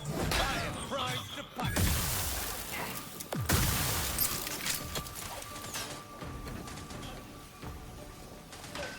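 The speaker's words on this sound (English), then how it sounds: "Grenade." A grenade blast in The Outer Worlds 2, with sharp bursts and shattering debris near the start, then crashing impacts and a decaying rumble amid scattered game sounds.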